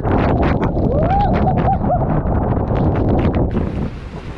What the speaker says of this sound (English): We had only been sailing for a couple of hours when this storm hit us.